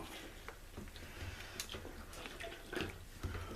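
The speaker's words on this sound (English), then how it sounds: "I'm going to fill this with hot water." Hot, freshly boiled water poured into the fuel tank of a 1965 Chrysler New Yorker, a soft, steady splashing and trickle with small knocks, quiet and close, outdoors.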